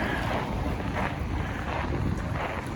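Outdoor wind rushes and buffets steadily across the microphone on a downtown Yellowknife street on a brisk December afternoon at -23 degrees, a loud continuous roar with no voices.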